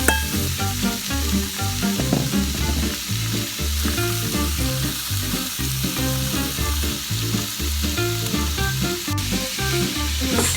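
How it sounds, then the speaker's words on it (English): Spiced meat sizzles steadily in a preheated pan, a continuous even frying hiss that holds for the whole stretch with no pauses, while a tonal, rhythmic musical layer sounds alongside it. "chuck all that meaty goodness in your preheated pan"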